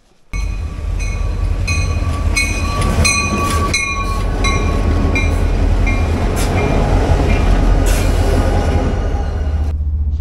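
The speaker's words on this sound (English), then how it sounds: "it's certainly a very comfortable train" A passenger train in Copper Canyon, Mexico rumbles steadily along the rails with a constant low roar, faint high squeals and clicks riding over it, loud and close, no voices.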